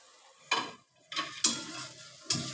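Prawns and fried vegetables are stirred into a masala in a pan, giving a few sharp bursts of sizzling and scraping separated by quieter pauses, close and without talk.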